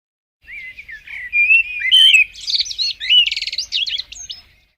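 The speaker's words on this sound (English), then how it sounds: "It's the blackbird. Grossly overlooked as a brilliant garden bird." A common blackbird sings a clear, fluting, varied phrase of warbles and chirps, close and loud against a silent background, ending with softer twittering notes.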